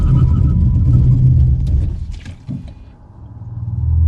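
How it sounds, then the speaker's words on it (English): Road and cabin rumble from a moving BMW i4 M50 electric car fades sharply as it brakes hard from 60 mph, dropping nearly to quiet before a low hum rises again. "So here we are at 60 and full brakes."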